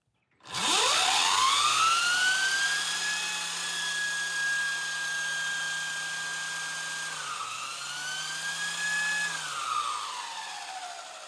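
An electric motor on a Happy Run F18 6kW electric motorbike spins the wheel up to about 115 mph, a loud rising whine that holds steady, dips briefly, climbs again and then winds down, with no talking.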